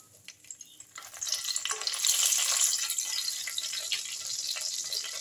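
Bay leaves and dried red chillies dropped into hot mustard oil, giving a close, steady frying sizzle that swells suddenly after a second of quiet and then holds.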